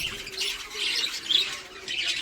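A group of budgerigars gives repeated close squawks and chirps, with bright bursts of chatter rising and falling across the short stretch.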